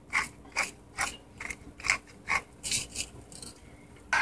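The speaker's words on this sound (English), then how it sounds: "freshly ground black pepper" Fresh black pepper is ground in a hand pepper grinder while cooking Jamaican rice and peas, giving a series of close, crisp ratcheting crunches in a steady rhythm of about two per second, with no talk over them.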